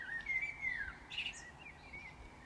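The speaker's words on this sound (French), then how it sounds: "J'aperçois des oiseaux qui ont trouvé refuge dans son feuillage et j'entends leur chant joyeux." Faint, thin bird chirps and tweets drift from tree foliage over a soft outdoor hush, a few short calls spread out at a distance.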